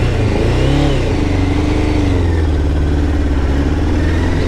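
A Honda CBR600 sport bike engine revs up close and loud, pitch climbing and settling into a strong steady drone as the bike pulls away.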